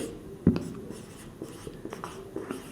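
Chalk or marker writing notes on a classroom board during a Class 12 biology lesson on molecular inheritance, a quiet series of short scratchy strokes with one sharper tap near the start, faint and close.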